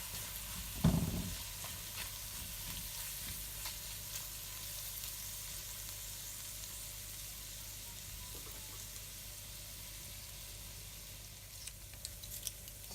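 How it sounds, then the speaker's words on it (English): Curry powder frying in a pot for Jamaican curry goat: a steady low sizzle throughout, with a brief louder stir or clatter near the start, then an even background hiss. "So my curry powder's been cooking for about a minute or so"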